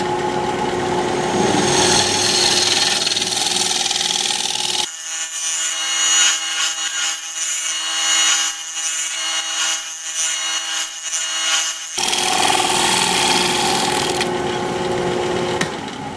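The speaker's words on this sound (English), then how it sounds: "Let me put a fresh edge on my scraper and we'll scrape." A scraper cuts maple crotch wood spinning on a lathe, giving a steady, loud rasping scrape with the motor's hum underneath, broken in the middle by a stretch of thinner, hissy scraping.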